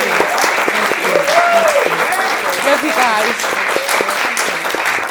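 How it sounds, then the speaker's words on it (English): Audience applause at the close of a Black at Work education panel event, steady clapping filling the room throughout while a voice speaks briefly over it. "please bring a really big round of applause"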